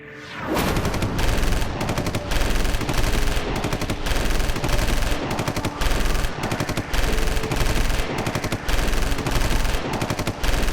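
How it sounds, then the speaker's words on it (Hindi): Sustained bursts of automatic gunfire rattle loudly and continuously, with rapid repeated shots and brief gaps between volleys. "बहुत बरसाली गोलियां"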